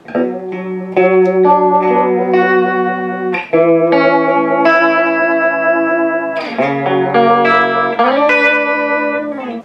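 An electric guitar plays a sequence of chords and notes through an MXR Phase 95 phaser pedal, with a swirling, shifting tone and no talking.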